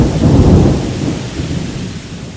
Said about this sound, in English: We're going to go for a little walk in the rain.